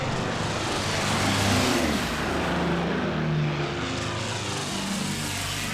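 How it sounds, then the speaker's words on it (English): German propeller aeroplanes of World War II drone in a steady, low, continuous hum that swells gently and fades, with no voices. "Again he hears the hum of the German aeroplanes, this time over England."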